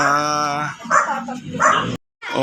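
A puppy gives a few high, whiny barks and yips up close, with a brief silent gap before one last yelp.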